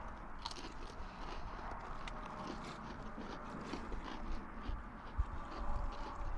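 Someone biting and chewing a vegetable cracker topped with jalapeno cheese outdoors while ice fishing, soft dry crunches and steady chewing close to the mic, with no talk.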